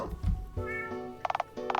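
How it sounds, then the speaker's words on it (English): A cat meows in the Dialtown video game, a few short pitched cries spread across a brief moment, sitting alongside game sounds with no talking. "You're a cat!"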